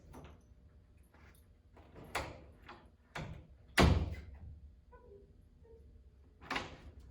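A door is opened and shut during dog training, giving several separate thuds and knocks at close range with quiet pauses between them and no talking over them.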